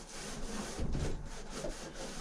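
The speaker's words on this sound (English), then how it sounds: "So wiping this roost off here." Rough scraping and rubbing of a wooden roost in a chicken coop as it is wiped down, several close back-and-forth strokes with one heavier pass in the middle.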